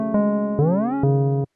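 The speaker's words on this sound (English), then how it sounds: "Do a nice little octave slide like" An 808 bass in FL Studio plays three long sustained notes, the middle one gliding smoothly upward an octave before the next note hits, then cutting off abruptly into silence.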